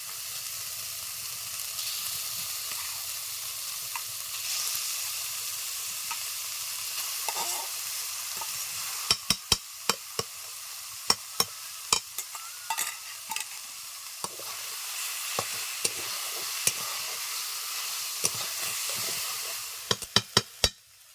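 Chicken mince fries in a pan for momo filling, a steady close sizzle and hiss throughout, with sharp scraping clicks from stirring in the second half.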